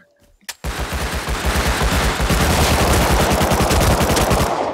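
Online video game gunfire, a long sustained burst of rapid automatic shots after a single opening shot, loud and dense with no talk over it.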